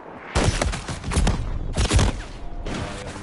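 Bursts of submachine gun fire in a PS4 online shooter game, three loud rapid-fire volleys of close, dense gunshots separated by short gaps.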